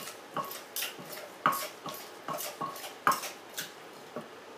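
Ingredients for a chili eggplant soup with fried chilies and canned fish being mixed together, a utensil clinking and scraping against a bowl in about a dozen separate, close knocks at an uneven pace.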